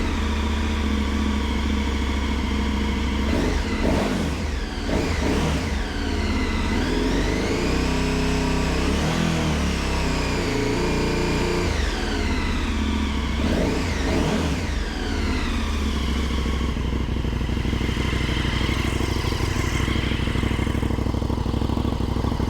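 A 2022 KTM 1290 Super Adventure S with an Arrow Sonora exhaust and dB killer fitted starts up, then idles loudly and close, with repeated throttle blips rising and falling in pitch.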